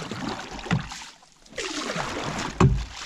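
Paddling a fishing canoe on its maiden voyage: water swishes and splashes around the hull in two bursts separated by a brief quiet, with a sharp knock near the end, close and moderately loud.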